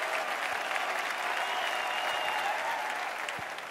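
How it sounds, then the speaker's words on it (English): Sustained audience applause for the finalists of the 2008 World Professional American Smooth ballroom dance championship, a dense, steady roar of clapping filling the hall at even loudness, easing slightly at the end. "Let's have a nice round of applause for our finalists once again, ladies and gentlemen"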